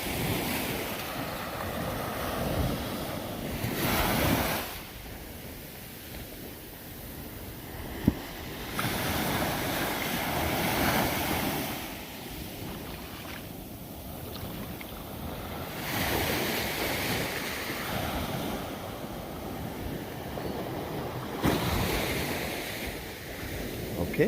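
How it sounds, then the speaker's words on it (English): Ocean waves wash onto a beach near a fort, swelling and receding in slow surges every few seconds, with wind buffeting the microphone and no talking. "I'll give you a silent 360 and let you hear some of these waves"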